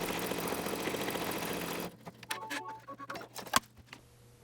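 An embroidery sewing machine stitches without thread, first as a steady dense mechanical whir, then as quieter, irregular ticks and taps for the rest of the clip.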